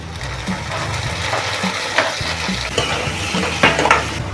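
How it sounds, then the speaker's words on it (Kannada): Chopped tomatoes hitting hot oil with frying onions, a busy sizzle broken by repeated spoon scrapes and light clinks against the pan as everything is stirred, close and fairly loud, no speech. "ಈಗ ಇದಕ್ಕೆ ಹೆಚ್ಚಿಟ್ಟಂಥ ಟೊಮೊಟೊ ಹಣ್ಣನ್ನು ಇದಕ್ಕೆ ಸೇರಿಸ್ಕೊತಾ ಇದ್ದೀನಿ"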